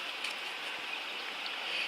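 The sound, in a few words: running water washing cleaned trout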